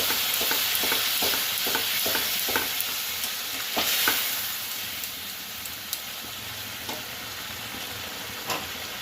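Spices, ginger paste and chili powder with soaked paste sizzling and being stirred in a pan for a Bengali kohlrabi curry, a steady close hiss with rhythmic scraping strokes that soften toward the end.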